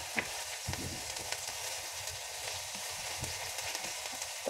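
Ginger and onion sautéing in garlic oil for a Filipino mung bean stew, a soft, steady hiss of sizzling with faint scattered pops and light stirring taps, fairly quiet and close.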